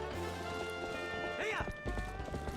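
Horse hooves clip-clop in a steady rhythm in Zelda: Twilight Princess HD, mixed with game ambience and a short whinny-like sound partway through, at moderate volume with no talk over it.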